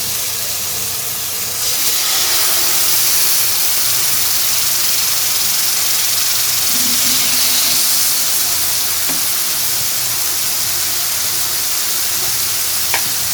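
Chicken pieces sizzling on a tawa over a slow flame, a steady, loud frying hiss that swells slightly as more pieces go in and continues unbroken without talk.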